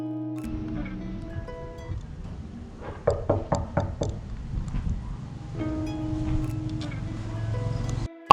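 Several sharp knocks on a house door come in a quick cluster midway through, set against a harmonic background hum and outdoor ambience.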